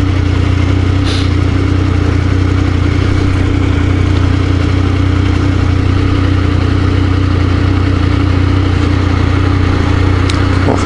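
Kawasaki EL250 motorcycle engine running steadily nearby as the bike pulls up, a loud, even mid-pitched drone throughout.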